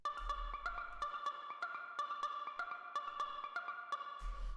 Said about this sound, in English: the first sound that we have here is this little ARP thing